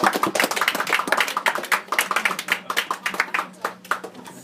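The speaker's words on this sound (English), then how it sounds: "everyone start clapping" An audience claps for Ben Macpherson in a steady, dense burst of applause that starts strong and thins slightly toward the end, with a faint voice briefly underneath.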